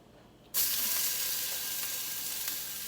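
Thin steaks hit a hot pan and burst into loud, steady sizzling that holds on without a break and fades only slightly, after half a second of near quiet.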